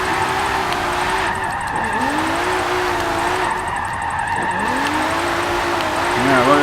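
A 1971 Nissan Skyline 2000GT-R drifting in the racing game Forza 7: a continuous engine drone with rising and falling pitch sweeps and tire squeal as the car slides, steady and close throughout.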